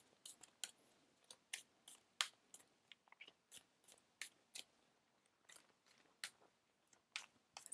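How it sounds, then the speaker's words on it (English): A person eating cake, heard as close, quiet chewing. Crisp, moist mouth clicks and smacks repeat in a steady, irregular rhythm with no talking. "let me have a little bit more cake"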